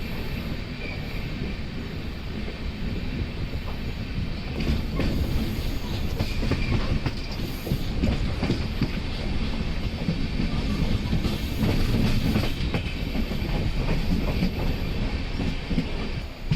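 The Dhanbad Express train rumbles steadily along the rails in Kerala, wheels clattering in a continuous rhythm with occasional metallic squeaks, loud and close throughout.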